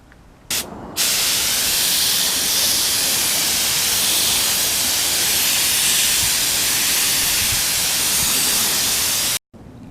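Spray gun laying clear coat onto Kawasaki Ninja motorcycle parts gives a loud, steady broadband hiss that runs almost unbroken for about nine seconds, with one brief stop near the start and another just before the end.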